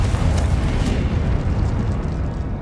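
A Confringo explosion spell blasting in the Hogwarts Legacy video game, a loud deep rumbling burst with crackling debris that stays heavy and dense throughout, easing slightly toward the end.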